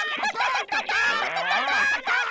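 Cartoon chicken clucking effect from Teen Titans Go!: a few loud, close, honking squawks that rise and bend in pitch in quick succession, with no talking.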